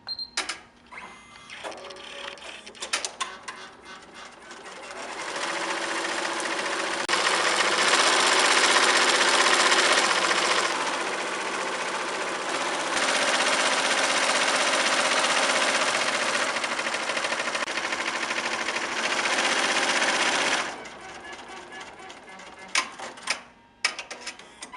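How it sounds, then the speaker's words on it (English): HAPPY embroidery machine stitching a design on an item held in a Durkee EZ Frame, a rapid rhythmic mechanical chatter that runs steadily for most of the stretch, starting and stopping with short pauses, heard alone and close. "All we have to do is hit start to begin sewing."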